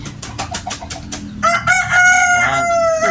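A rooster crows loudly and close, a long drawn-out call following a short run of rhythmic clucks or flaps.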